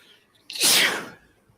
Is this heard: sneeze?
yes